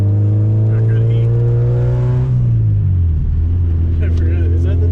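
A Honda Civic with a B-series engine runs through its exhaust, holding a steady, strong rev, then the pitch drops partway through and settles into a lower, throaty idle-like drone.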